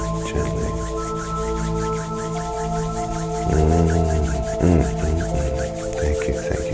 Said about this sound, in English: bring those hands together in front of you and rub them together gently